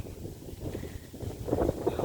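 Steady wind gusting across open rice fields in Cambodia, buffeting the microphone with a low, rushing roar that swells slightly toward the end.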